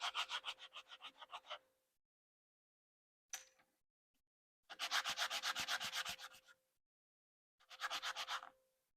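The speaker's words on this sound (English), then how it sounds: "So just sand them down and wipe the dust off." Stencils are hand-sanded in quick rhythmic back-and-forth strokes, coming in four separate bursts with silent pauses between them, close and fairly faint with no talking.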